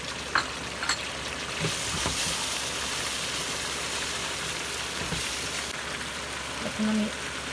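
Greek yogurt dropped into hot oil and spices for a mutton kofta curry, setting off a loud, steady sizzle and fry close up with occasional clinks of a spoon, no voices.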